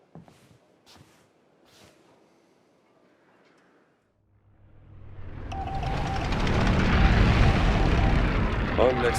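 A propeller airplane in the video game Indiana Jones and the Great Circle swells in from about the midpoint, its engine drone growing loud and steady after quieter murmuring voices at the start.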